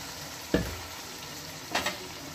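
Potatoes and spices sizzle in a pan for Kasuri methi aloo, with a soft, steady frying hiss broken by two sharp stirring scrapes, one early and a paired one near the end, and no voices.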